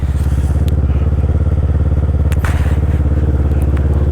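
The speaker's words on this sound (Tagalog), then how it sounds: "Papainit lang ako ng aking motor." A motorcycle engine idles while warming up, a steady loud close-up putter with an even rapid pulse throughout and faint clatter on top.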